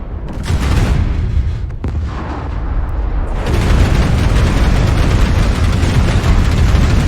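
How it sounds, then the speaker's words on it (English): An artillery strike in MechWarrior Online, heavy booming blasts and rumbling explosions that build into a loud, dense roar lasting several seconds. "Artillery strike online."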